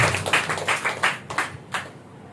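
A church congregation claps in unison at a Sunday worship service in Nellore, a run of sharp, evenly spaced hand claps that slows and stops, with one last clap after a short pause.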